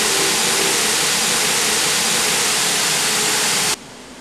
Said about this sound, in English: Mr. Vega, did you know all the water is running in the bathroom?